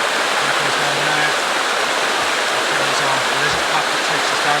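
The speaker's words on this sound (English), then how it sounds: "This is the first part of the big waterfall where the steep bit goes down there" A big waterfall at Nant Y Ffrith pours down a steep drop, a steady close roar of rushing water that fills the whole clip, with a faint voice talking underneath.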